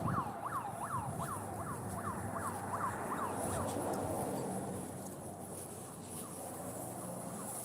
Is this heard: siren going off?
yes